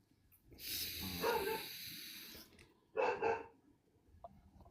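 A dog barks and yips in the background, with a longer burst of sound followed by a second short burst about a second later, moderately loud against a quiet room.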